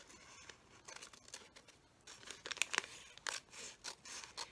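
Scissors snip across a sheet of paper for a scrapbook page, a series of faint, crisp cuts close by in a quiet room, growing a little louder toward the end.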